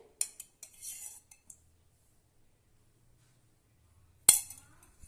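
A metal spoon clinks against a dish while adding two spoonfuls of ghee to jaggery syrup and health-mix flour for sathu maavu urundai: a few light clicks early, then one sharp clink after a quiet pause.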